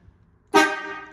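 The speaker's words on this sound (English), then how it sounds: "They say when you convert these 6-volt horns to 12 volts, they're like trains." A 6-volt horn on a Chevy 3100 pickup, converted to run on 12 volts, sounds one loud, close honk that starts abruptly after a brief quiet and holds steady with a rich, brassy tone.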